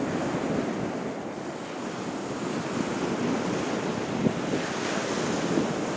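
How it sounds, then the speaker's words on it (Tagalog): Ocean surf roars continuously with heavy wind buffeting the microphone, waves washing in without a break. "Malakas ang mga parang alon."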